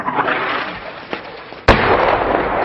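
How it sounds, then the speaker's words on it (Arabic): Heavy mortar shelling hits the town of Al-Ghanto in Homs: a low rumbling background is broken by one loud, sharp blast partway through, followed by a rolling echo. "قصف عنيف على بلدة الغنطو بالقذائف الهوية"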